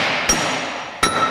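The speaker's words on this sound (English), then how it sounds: "Let's try a little bit of metal on metal." Two ringing metallic strikes, spaced under a second apart, each a sharp clink of metal on metal over a steady background hiss.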